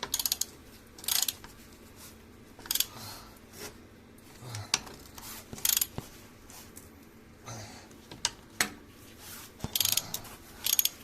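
Ratchet tightening a subframe bolt on a Kia Cerato 2, quick bursts of clicking pawl ratcheting separated by short pauses, close and fairly crisp.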